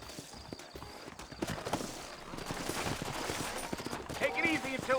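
Horse hooves clip-clop in the Red Dead Redemption video game, a steady trotting patter at moderate distance over low ambient noise, with faint voices and other game sounds mixed in.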